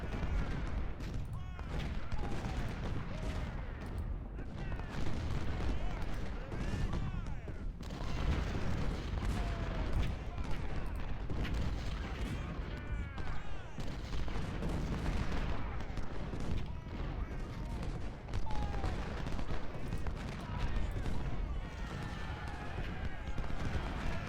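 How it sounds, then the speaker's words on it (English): Artillery fire from 20-pounder cannons in the Civil War strategy game Ultimate General, a dense battle soundscape of repeated booms and crackling musketry running continuously throughout, with voices mixed into the din. "let's get these 20-pounders firing on his guns"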